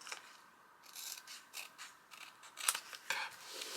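Scissors trimming the top off a sheet of paper, a few quiet close snips and slicing strokes in an uneven sequence against near silence.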